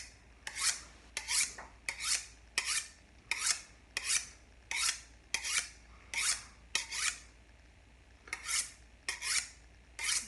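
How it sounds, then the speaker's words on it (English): A knife blade is drawn across a sharpening tool in steady, rhythmic rasping strokes during meat prep, roughly two per second, crisp and close with brief gaps between passes. "I'm going to get a quick sharpen on my blade."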